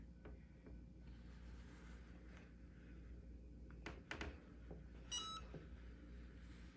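A Cricut hat press gives a short series of rapid, thin electronic beeps partway through to signal it is ready. Quiet room tone and a few soft handling clicks come before the beeps.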